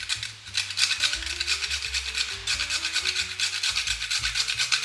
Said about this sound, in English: Now I'm gonna simply grate some nutmeg.